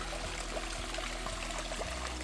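A small stream on Madeira gurgles and trickles continuously, soft and steady, with no voices.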